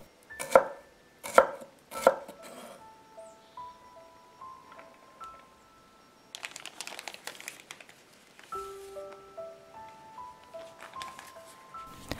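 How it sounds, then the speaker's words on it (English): Knife chopping half a carrot into small cubes on a board for a shrimp and pork siu mai garnish: three sharp, close, loud strikes at the start, then a softer scatter of quieter cuts and kitchen taps, with no talking. "Meanwhile, I cut half a carrot into small cubes, which will be used as decoration."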